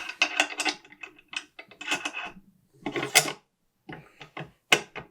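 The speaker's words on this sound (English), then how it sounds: "Definitely can't close the bolt." A 6.5 Creedmoor rifle bolt is worked against a no-go headspace gauge and fails to close, close-up metallic clicks, slides and clunks in separate bursts with short silent gaps.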